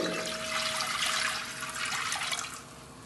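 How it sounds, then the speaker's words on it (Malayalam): Water pours steadily into a cooking pot with a splashing, gurgling rush that eases off toward the end; no one speaks. "1 ലിറ്റർ വെള്ളം ഒഴിക്കുന്നുണ്ട്"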